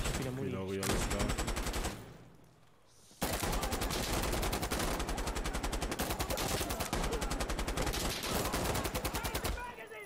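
Rapid, loud gunfire from the video game Insurgency rattles almost nonstop in sharp automatic bursts, pausing briefly after two seconds before resuming at full intensity, with a voice faintly under the shots.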